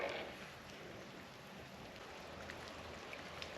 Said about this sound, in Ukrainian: Дощ почався ще.